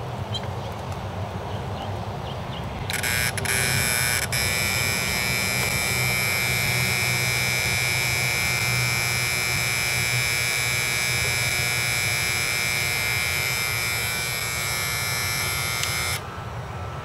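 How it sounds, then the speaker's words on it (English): A septic aerator air pump's alarm buzzer sounds on being switched on, a loud steady electronic drone that starts abruptly, holds for about thirteen seconds and cuts off, over a low pump hum. "the minute I clicked the on switch, the buzzer went off"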